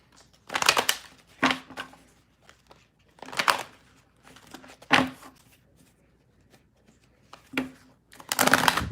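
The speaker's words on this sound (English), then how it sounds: "I'm going to shuffle some cards here" A deck of tarot cards is shuffled close up in several crisp riffling bursts with brief pauses between them, and no voice is heard.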